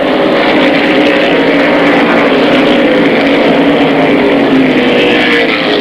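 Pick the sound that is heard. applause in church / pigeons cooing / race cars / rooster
race cars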